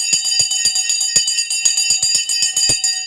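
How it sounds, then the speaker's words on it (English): An electric alert bell on a live stock-trading stream rings in a fast, steady clatter of rapid strikes throughout, loud and continuous with no talk over it. "The bell's gone."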